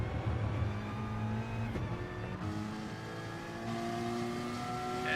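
Porsche Cayman and Toyota 86 race cars racing on a circuit, steady engine drone with shifting tones as they pass, moderately loud and continuous.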